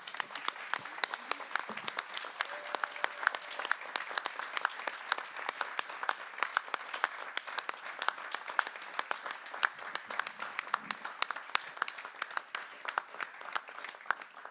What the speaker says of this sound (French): c'est la technique que je voudrais qu'on applaudisse